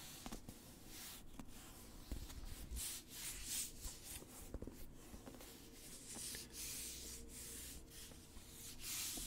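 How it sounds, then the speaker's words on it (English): Soft, close rubbing and shuffling of a book's covers being moved around, a quiet continuous scratchy friction with small irregular taps and swells, heard alone without speech. "It's like rubbing the covers of the book."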